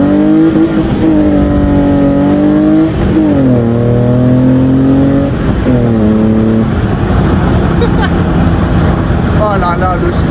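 A BMW E30 fitted with a Supersprint exhaust revs up close and loud, its engine note rising and falling in several sweeping pulls, with someone talking over it.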